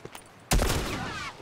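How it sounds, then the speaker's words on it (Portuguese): A sudden loud burst of rapid gunfire erupts after a quiet moment in The Last of Us video game, sharp and close, with a ringing tail as it fades. "Eu dei três rajadas!"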